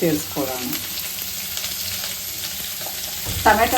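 Tomato frying in a pan with curry leaves for home-style fried rice, producing a loud, close, continuous sizzle and crackle, with brief bits of speech at the start and end.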